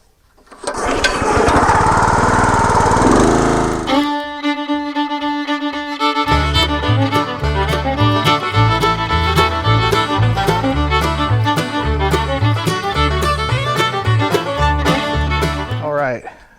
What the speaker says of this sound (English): So let me get ye old log splitter going.